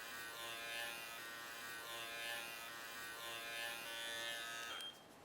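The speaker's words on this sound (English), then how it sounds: "Now I'm moving my clipper to a 10 setting" Electric dog clippers trim a Miniature Schnauzer, giving a soft, steady buzzing hum that rises and dips slightly as the blade moves through the coat, then cuts off at the end.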